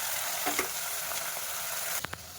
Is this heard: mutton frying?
yes